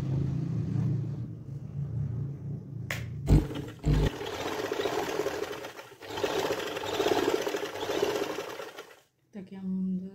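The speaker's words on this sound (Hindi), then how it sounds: "हम इसी तरह नीचे थोड़ा सिलाई लगा देंगे।" A sewing machine runs in long steady bursts, stitching fabric along the hem of a girls' trouser bottom, its motor hum loud and close, with a brief pause and a short restart near the end.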